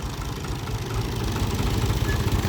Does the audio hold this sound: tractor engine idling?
yes